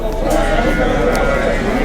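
Kivircik sheep bleat at a busy livestock market, their calls mixed into steady crowd chatter and background noise throughout the short stretch.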